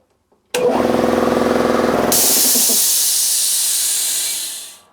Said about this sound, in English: This compressor gets quite loud.